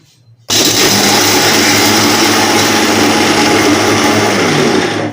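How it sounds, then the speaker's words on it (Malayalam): Mixer grinder powdering cashew nuts at medium speed, starting abruptly after a brief quiet moment and then whirring loud and steady close by, with a dense buzzing motor tone. "അണ്ടിപ്പരിപ്പ് മിക്സിയിൽ മീഡിയം ലെവലിൽ പൊടിച്ചെടുക്കുക."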